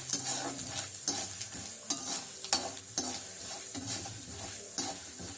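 Chopped onions for idli upma sautéing in a pan, with a steady close sizzle and repeated scraping stirs of a utensil against the metal, no voices.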